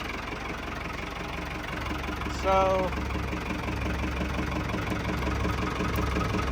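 A Ford 5000 diesel tractor engine idles with a steady low, knocking chug throughout, close and continuous, with a short voice and a brief tonal squeal partway through.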